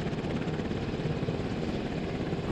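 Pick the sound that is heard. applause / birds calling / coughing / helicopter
helicopter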